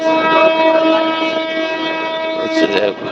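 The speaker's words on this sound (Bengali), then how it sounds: "ট্রেন মনে হয় ছেড়ে দিয়েছে আমাদেরটা" A train at Kamalapur railway station, heard as a steady loud tonal drone of engine and horn over station ambience, with a brief louder burst near the end.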